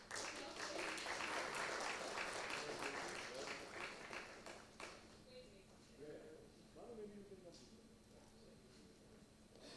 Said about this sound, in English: A big round of applause for Amrish